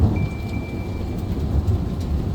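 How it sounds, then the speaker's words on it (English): Steady rain with a deep rumble of thunder on a spring evening, a constant loud wash of falling water close by. "There's some thunder."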